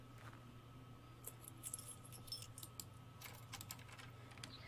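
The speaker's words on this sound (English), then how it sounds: "Okay, I'll unlock the door." Keys jingle and click in a door lock in a horror video game, a cluster of small, light metallic taps and rattles over a faint steady hum, with no talking.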